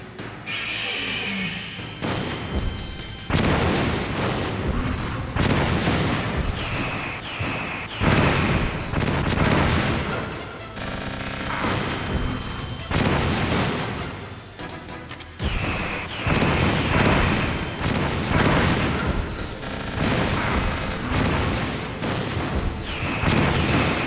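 Missile explosions in the video game Metal Gear Solid: repeated loud booms and crashing blasts keep coming for the whole stretch, dense and close, with brief dips between bursts.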